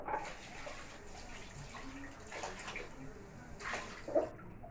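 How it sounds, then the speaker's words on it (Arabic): About half a cup of water pours and splashes into a cooking pot of shrimp and vegetables, a soft, steady trickle with a few brief gushes, faint and close by. "انا ضفت نص كوبايه ميه"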